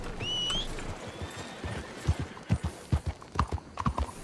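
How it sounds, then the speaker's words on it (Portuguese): Horse hooves in Red Dead Redemption 2, a run of rhythmic clip-clop hoofbeats that grow more distinct and regular toward the end, moderately loud, with a brief whinny-like tone early on. "Cavalo do Zorro!"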